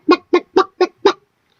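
A man imitates a hen clucking with his voice, giving five short, evenly spaced, close, loud clucks in quick succession before falling silent.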